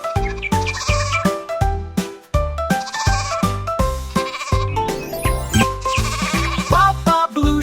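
Bleating sheep calls repeat in a bouncy, rhythmic pattern, tuned to a cheerful children's melody and set over bright backing music, loud and close.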